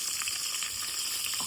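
Curry leaves crackle in hot oil for a tempering of garlic and whole spices ahead of Kokan village-style mutton, a dense, steady sizzle with faint pops running throughout at close range.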